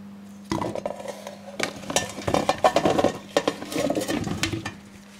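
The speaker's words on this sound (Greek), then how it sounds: "Στη συνέχεια τα κομμάτια θα τα βάλουμε μέσα σε μία κατσαρόλα." Clattering and knocking of hard quince pieces dropped into a metal saucepan, with irregular clinks and thuds close by, no voices.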